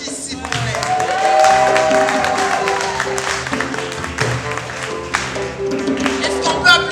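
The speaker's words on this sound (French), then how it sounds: "Est-ce qu'on peut applaudir pour nos instrumentistes, s'il vous plaît?" An audience at a women's slam poetry festival applauds the instrumentalists, with sustained, dense clapping from the crowd at moderate volume and some background sound beneath it.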